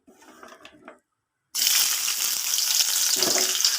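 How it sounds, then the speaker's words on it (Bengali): Sliced onions tipped into hot oil in a wok hiss into a loud, steady sizzle after a second of faint kitchen sounds and a short silence, the frying staying close and bright to the end. "আমার কড়াই তেলটা গরম হয়ে গেছে আমি এর মধ্যে কী করবো পেঁয়াজগুলো সব দিয়ে দেবো"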